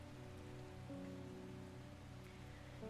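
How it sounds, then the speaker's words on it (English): Steady rain falls in the video game Strange Horticulture, a continuous even patter over a low sustained musical drone, with no talking. "It's been very rainy. Very, very rainy indeed."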